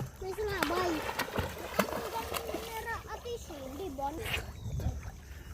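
People bathing in the sea at a boat landing, splashing water mixed with lively chatter and children's voices throughout, with sharp splash bursts scattered among the talk.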